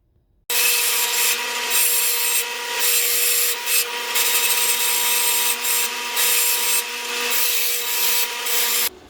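An old 1x42 belt grinder grinding a bevel into steel during an anvil horn repair, a loud steady abrasive roar that runs unbroken for several seconds with slight surges as pressure changes, then stops abruptly.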